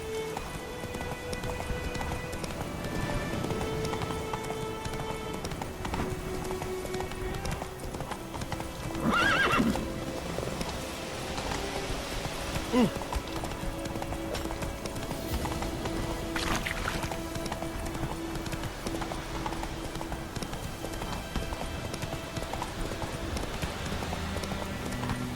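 A horse gallops with steady clip-clop hoofbeats in The Witcher 3, and a brief whinny cuts through around the middle. The rhythmic hooves continue throughout, close and even, with no speech.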